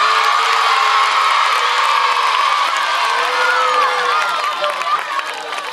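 Schoolchildren at a school in Tudela cheer and applaud loudly for an Osasuna football player, a dense, steady crowd roar of young voices and clapping that fades slightly at the end.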